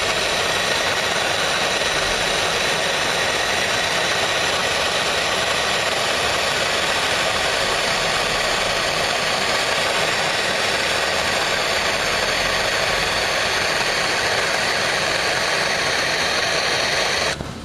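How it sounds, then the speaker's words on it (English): A MAPP gas torch roars steadily as it heats a coil spring on a tractor. The hiss is loud, broadband and close, and it runs unbroken throughout with no talking. "Take your map gas here and heat up the little coil until it turns red."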